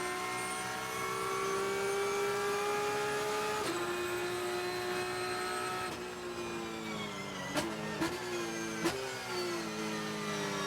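An onboard race car engine at Mid-Ohio during an International GT race drones steadily at high revs, then drops pitch sharply through several quick downshifts near the end, loud and close with no talk.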